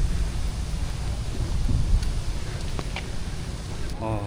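Steady rain falls across a university campus in Taipei, a dense, continuous hiss with low rumbling wind or traffic underneath, and a voice briefly heard near the end.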